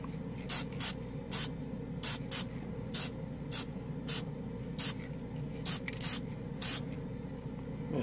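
Krylon Short Cuts spray paint hissing from a can onto a resin piece in short, repeated bursts, each spray steady and close, with brief pauses between them.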